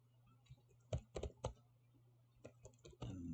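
Keystrokes on a computer keyboard come in bursts of clicks, a cluster near the start and another toward the end, fairly close and moderately loud over a low steady hum.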